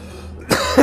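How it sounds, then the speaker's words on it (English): A single short, close cough set off by laughing, a brief harsh burst after a moment of quiet. "Oh, laughing makes me cough."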